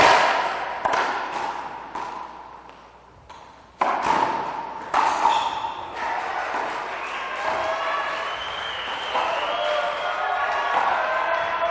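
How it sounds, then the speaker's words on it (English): Racquetball crowd at the 2011 US Open women's final between Paola Longoria and Rhonda Rajsich, with sharp ball pings and thuds early, then a steady swell of cheering and applause that holds loud to the end. "Listen to this crowd."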